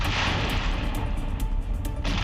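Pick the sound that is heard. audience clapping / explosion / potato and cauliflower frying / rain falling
explosion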